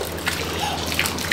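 Water from a shower sprays and splashes steadily and close by, a continuous wet hiss with small spatters, with no talking.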